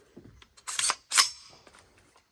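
An ATI AR-15 rifle is dry-fired close up. A few sharp metallic clacks and clicks of the action and trigger stand out against quiet surroundings.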